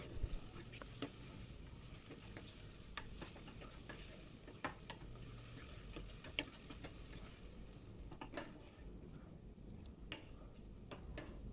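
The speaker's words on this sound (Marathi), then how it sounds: "एकसारखा हलवत राहायचा म्हणजे छान परतला जातो इथे कांदा परतवायला थोडा वेळ लागतो" Onions fry in a pan and are stirred steadily, giving a faint, continuous sizzle with light scraping ticks of the utensil scattered throughout.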